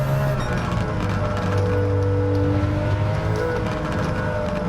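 A Toyota GR Yaris engine drones steadily at high revs in a racing video game, a continuous loud whine with slight pitch shifts.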